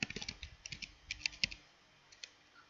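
Computer keyboard typing while entering a MySQL function query: a quick run of close, crisp key clicks in the first second and a half, then a few isolated taps, with no talk.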